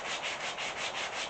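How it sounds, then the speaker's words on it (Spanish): Sandpaper rubbed back and forth along the edge of a wooden piece being restored, a steady rhythmic scratchy rasp with about six even strokes, close and alone. "Lijamos el canto lo mismo"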